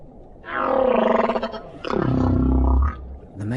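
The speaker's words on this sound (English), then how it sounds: "The male humpback may sing for hours or even days." Humpback whale song from the deep ocean, with two long moaning, roaring calls carrying harmonic overtones, the first rising and wavering and the second lower and rumbling, then a brief third call at the end; loud, clear and without any talk.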